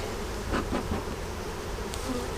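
A steady, dense insect buzz fills the background, a hum of many honeybees droning close by in a hive box being smoked, with no talking.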